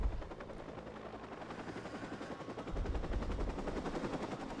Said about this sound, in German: Der Heli kann mich hier nicht sehen.